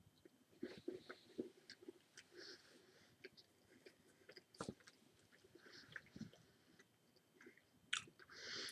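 Close, quiet chewing of a dry apple cinnamon emergency food ration bar, with repeated soft crunching bites and moist mouth sounds in an irregular rhythm, no talking.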